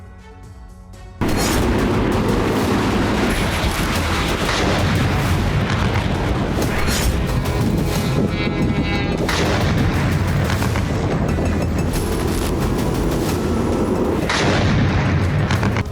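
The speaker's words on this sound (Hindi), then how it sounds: "रोबोतिनो में रूसी सेना ने T-90 टैंकों से भारी गोलीबारी की।" Heavy tank gunfire from Russian T-90 tanks near Robotyne on the Ukrainian front, a loud, dense, continuous roar of booms and bursts that starts abruptly after a quieter opening and keeps going without pause.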